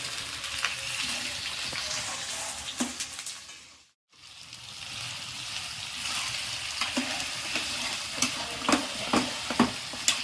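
About half a kilo of sliced capsicum frying in a pan while being stirred, a close, steady sizzle with scraping stirs and a brief silent break, later sharper clicks of the spoon against the pan.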